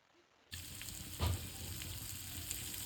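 Masala spices frying in hot oil in a pan, a steady close sizzle that starts abruptly, with one brief louder stir or clatter partway through.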